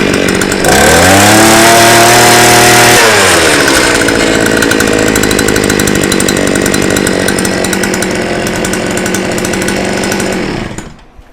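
Small gasoline engine on a Viper ice auger, freshly fitted with a new carburetor, revs loudly near the microphone for a few seconds, then settles into a steady, rough buzzing idle before cutting off at the end.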